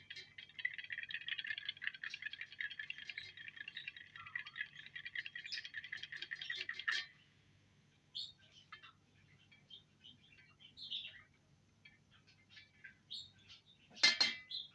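A spoon stirs milk with yogurt starter in a container, scraping and rattling steadily for about seven seconds, then gives a few scattered clinks and taps before one last sharper knock; close and fairly quiet, with no voices.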